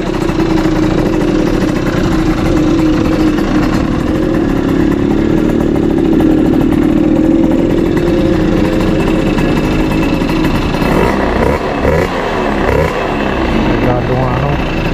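A Honda Dio 2 scooter engine runs close by with a steady, buzzing putter that shifts into rougher clattering pulses near the end.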